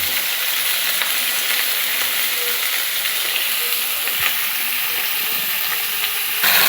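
Raw mixed vegetables frying in a pan, a continuous loud sizzle and hiss with a few faint scrapes, no voices.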